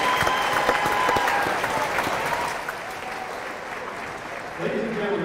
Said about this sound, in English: Let's give a round of applause to our future ladies Sparkplugs.